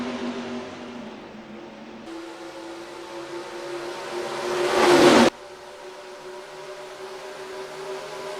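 A pack of 36 IndyCar race cars accelerates at Texas Motor Speedway in NASCAR Racing 2003, a steady engine drone that swells into a loud, rising rev and then cuts off abruptly to a quieter hum.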